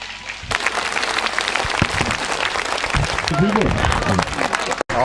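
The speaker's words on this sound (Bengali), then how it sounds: "জোরে করতালি।" Loud, dense applause from an audience at a freshers' welcome event at a coaching center, filling the room for several seconds with voices calling out over the clapping.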